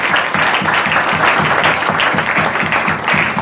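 Loud, close applause from a church congregation, many hands clapping in a fairly steady rhythmic pattern that stays strong throughout.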